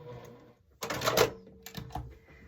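A sewing machine stitching a flying geese quilt block, a short quiet burst of rapid mechanical whirring and clicking that stops and restarts briefly, heard close up.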